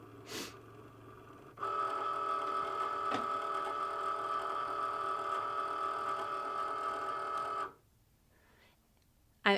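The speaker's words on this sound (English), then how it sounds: "Powering on my machine." A new Cricut Maker cutting machine powers on with a steady, tonal electronic whir and hum that holds for about six seconds and then cuts off, close and fairly quiet, with no talking.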